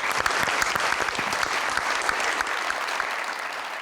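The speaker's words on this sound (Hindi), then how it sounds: "और इनके लिए बहुत सारी तालियां।" A studio audience claps loudly and steadily, a dense wash of hand claps with individual sharp claps standing out, filling the whole stretch with only faint voices underneath.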